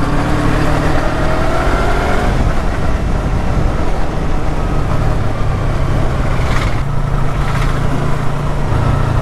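A custom-painted Yamaha YZF-R3 twin-cylinder motorcycle engine runs in a loud, close, steady drone that holds throughout without pause.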